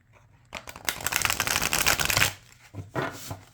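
Pasta-themed tarot cards riffle shuffled in a loud, rapid stream of flapping edges for nearly two seconds, followed by a few softer bridging taps and snaps as the deck settles.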